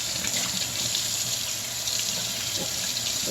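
Water runs steadily from a kitchen sink tap as vegetable layers are separated and rinsed beneath it. A close, continuous splashing hiss fills the whole stretch, with no speech.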